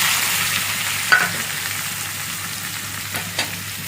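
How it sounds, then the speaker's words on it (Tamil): Tomato, onion and green chili frying in a pan with cumin and fennel seeds for an egg roast, giving a steady close sizzle with a couple of brief stirring knocks and no talk. "சீரகம், சோம்பு பொரிஞ்சோன்னா தக்காளி, வெங்காயம், பச்சை மிளகாய்"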